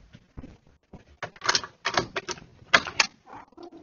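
A door being opened nearby to let a cat in: a quick series of sharp clicks, rattles and knocks from the latch and handle in irregular bursts, with no talking.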